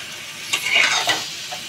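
Chicken pieces stir-fried in a pan for a red chicken curry give a brief sizzle, with a couple of quick scraping stirs of a spatula through the meat.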